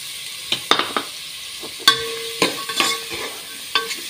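Onions frying in a pan, a soft steady sizzle with several sharp clinks and scrapes as a spoon stirs them.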